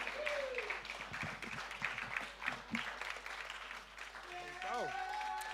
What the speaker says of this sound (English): Give it up a round of applause.